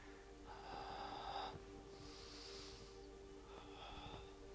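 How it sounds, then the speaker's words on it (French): Breathing during a pilates mat exercise: forceful nasal exhales and inhales in a slow rhythm, close to the microphone, over a faint steady hum and without talk. "souffle, inspire, souffle, inspire, souffle, inspire."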